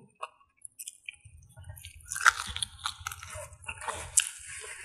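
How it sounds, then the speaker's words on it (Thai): Tough, chewy pork pieces from Thai rice soup bitten and chewed by hand, with close crunching and squishing mastication sounds growing busier and louder through the middle, plus a faint low background hum. "กัดกินแบบนี้แล้วนะจ้ะ"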